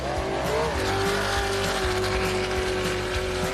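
A race car at the Gundy 500 accelerates hard on the gas, its engine a loud, sustained, steadily rising roar close by, with a faint tire squeal and no talking.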